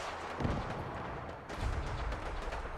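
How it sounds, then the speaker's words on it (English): Fallout 4 game explosions and gunfire boom in bursts, with heavy low thuds at two points over a continuous rumbling, dense battle mix. "There's going to be a lot of explosions."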